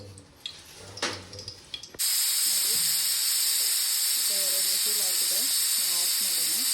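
A pressure cooker cooking tomato bath with soya beans bursts into a loud, continuous steam hiss and whistle after a couple of seconds of quieter kitchen sounds, holding steady to the end while a voice speaks faintly underneath.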